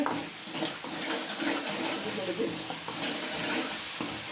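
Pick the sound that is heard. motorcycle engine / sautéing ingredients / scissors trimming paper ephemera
sautéing ingredients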